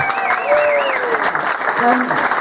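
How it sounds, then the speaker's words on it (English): Audience applause at a comedy show, a steady broadband clatter of clapping with cheers and whoops riding over it throughout. "give yourselves a massive round of applause"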